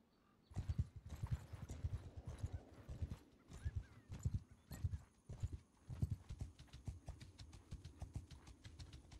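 Hooves of many horses clip-clop steadily in Mount & Blade 2 Bannerlord, with an occasional whinny over the dense, overlapping trotting. No voices are heard.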